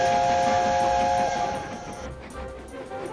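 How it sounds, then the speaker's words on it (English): A loud, sustained steam locomotive whistle blasts steadily, then cuts off, leaving a fainter hissing rumble behind. "he blasted his whistle and charged forward"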